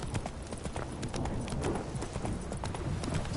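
Roach, a horse in the Witcher 3 video game, clip-clops along in a steady hoof rhythm, close and clear over a busy background.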